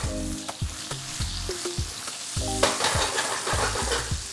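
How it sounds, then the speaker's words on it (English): Zucchini and sauce for candele pasta sizzle and fry in a pan, tossed and stirred repeatedly with steady scraping and clattering close by, with no talking. "don't be afraid to toss the pan."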